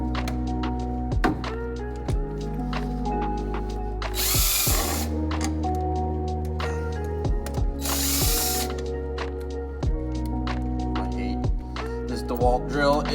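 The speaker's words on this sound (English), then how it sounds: "DeWalt drill is worn out" A worn-out DeWalt power drill works on a farm truck's engine in repeated short bursts, each whirring spin ending in a ratcheting clatter, with two longer, louder hissing pulses partway through; the sound is close and loud.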